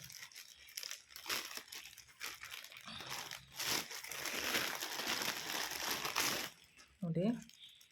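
Heavily wrapped packaging around a purchased button press lock being pulled apart and unwrapped, giving continuous close crinkling, crunching and tearing rustles, with a short voiced sound near the end.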